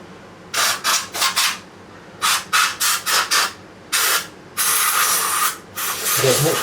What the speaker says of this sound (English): with this cloth and clean, because these were dusty all the way around